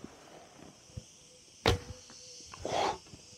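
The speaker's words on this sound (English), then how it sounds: "And you hear the two fletched arrow." An arrow with two fletchings is shot from an imperial-style carbon fibre bow at 20 to 30 meters: a sharp string snap and whoosh, then a second rushing swish and thud, over faint outdoor insect chirping.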